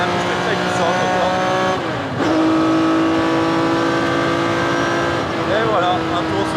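Ferrari 512 BBLM race car lapping Mugello circuit on a slippery track, a loud sustained engine howl that drops sharply near two seconds then climbs again through gear changes, with brief tire squeal near the end.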